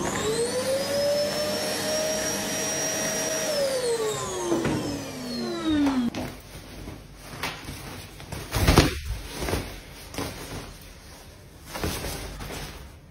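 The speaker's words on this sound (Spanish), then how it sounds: "Aspiradora." A vacuum cleaner running: a steady high whine and motor drone that winds down after about six seconds, followed by quieter scattered thumps and rustling.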